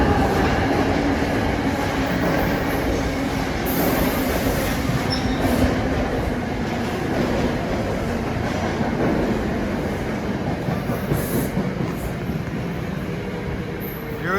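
NJ Transit train 6245, bound for Montclair State University, rolls past loud and near, a broad steady rail roar with faint wheel squeal and clatter throughout.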